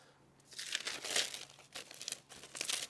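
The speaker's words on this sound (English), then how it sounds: "Just tear it up, get it in there, stuff it down." Dried food pieces are torn and crumpled by hand, crisp crinkling bursts coming in several quick bouts with short pauses between them, close and fairly quiet, without talking.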